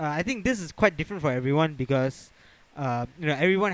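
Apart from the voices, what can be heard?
No everyday noises stand out.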